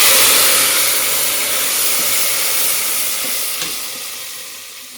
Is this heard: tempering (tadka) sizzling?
yes